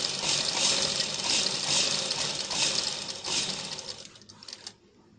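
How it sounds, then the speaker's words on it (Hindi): A sewing machine runs steadily while stitching straight practice lines at half pedal on fabric, a continuous close whirring rattle that stops near the end, with no talking. "तो हम हाफ पैर की सिलाई लगाएंगे सीधी सीधी, इस तरह से प्रैक्टिस हम सीधी सिलाइयां चलाने की करेंगे।"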